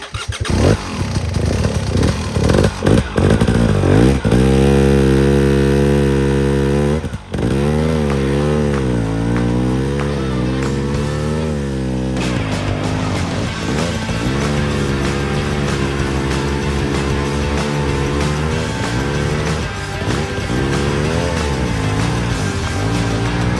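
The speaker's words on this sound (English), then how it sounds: "KTM 300, to see how it does on the same slippery climb" A KTM 300 two-stroke enduro motorcycle climbs a slippery hill without traction control, its engine loud and close, revving hard with rising and falling pitch and clutch-controlled bursts throughout, with no talking.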